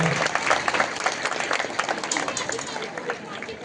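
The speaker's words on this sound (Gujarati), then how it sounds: "તાળીઓના ગડગડાટથી આપણા મહેમાનને વધાવી લઈએ" An audience at a community education awards ceremony claps to welcome a guest, a brisk, dense round of applause heard close, with faint crowd murmur underneath.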